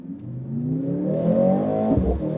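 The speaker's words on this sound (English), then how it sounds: "maybe we can turn on the engine" A 2023 Mercedes-AMG C63 S E-Performance engine fires up and revs, its pitch climbing steadily, then drops with a deep rumble near the end, loud and close.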